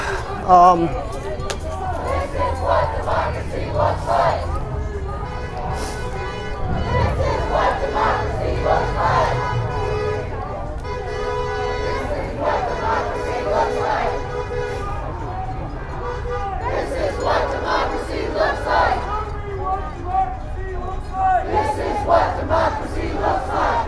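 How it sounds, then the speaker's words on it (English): Protest crowd marching through a Kansas City plaza at an anti-ICE vigil, chanting in steady rhythmic call-and-response waves, loud and close with shouts and babble around. "I'm sure you guys can hear the chants"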